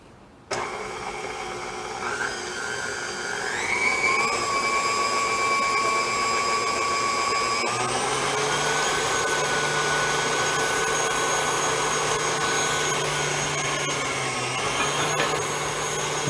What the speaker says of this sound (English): I'm going to cream these together for about a minute till I get them good and creamy